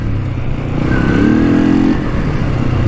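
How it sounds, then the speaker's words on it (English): A Polaris Scrambler 500 4x4 quad with a worn drive belt runs loud and close, a rough rumbling engine note rising briefly in pitch as it revs before settling back. "Belt doesn't sound too good."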